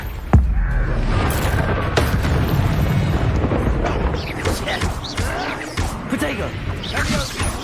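Bombarda spell explosions in Hogwarts Legacy combat, a sharp boom near the start, then rumbling blasts, crashes and impacts continuing under busy battle noise.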